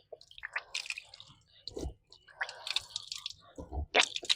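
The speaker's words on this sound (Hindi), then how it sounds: "दोनों हाथ को धोने के बाद फिर आपको फिर कुल्ली करना 3 मरतबा" Water sloshes and gurgles in the mouth during ritual ablution before prayer, close and wet, in several short bursts of swishing and spitting with drips between them.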